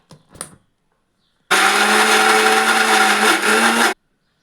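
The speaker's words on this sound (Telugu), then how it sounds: "మూత పెట్టి మిక్సీ పెట్టుకుందాం" After a brief clatter, a mixer grinder blending mint chutney whirs loudly for about two and a half seconds with a steady motor whine, then cuts off abruptly.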